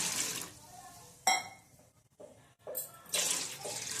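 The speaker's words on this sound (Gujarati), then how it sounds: "આપણે કુકરમાં પાણી મૂકી દેશું ઉકળવા." Water running from a tap into a pressure cooker, set on a gas stove for boiling, in a home kitchen while making momos. It comes in splashy bursts with short pauses between them, fairly close and moderately loud.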